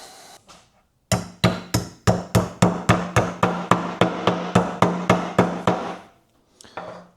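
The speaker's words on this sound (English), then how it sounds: "Let me find my hammer." A steady run of sharp hammer taps, about fifteen evenly spaced strikes, close and loud, with a couple of lighter knocks before and after.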